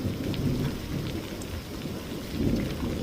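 Heavy rain pours steadily while deep thunder rumbles low and continuous underneath, no voices.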